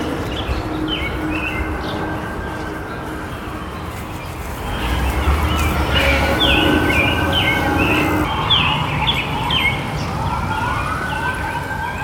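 An NYPD police car siren wails from a distance in Brooklyn's Prospect Park, rising and falling in long sweeps that swell louder midway, over city hum and occasional bird chirps.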